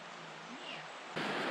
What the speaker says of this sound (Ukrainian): Вже чуємо річку.